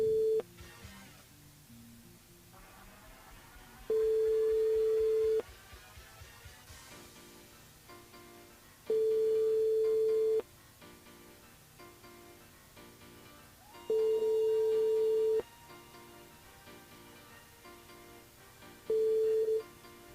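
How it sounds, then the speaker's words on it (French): An outgoing call rings out over a radio phone-in line: a steady pure tone repeats in long pulses about every five seconds, separated by quieter background line noise and faint music, with no voices during the ringing. "on appelle Fabienne du côté de Sainte-Suzanne"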